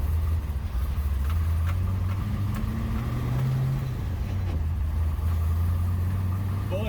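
Ultima GTR engine running with a steady low drone close by, the pitch rising and falling gently as the car moves off, with no talking.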